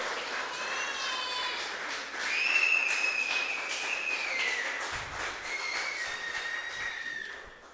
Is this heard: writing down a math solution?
no